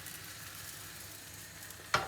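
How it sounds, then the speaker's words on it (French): Crêpe batter sizzles steadily in a hot frying pan, a faint continuous hiss with a sharp clink of a utensil at the very end. "ça grésille, vous entendez? Ça veut dire que la poêle est bien chaude"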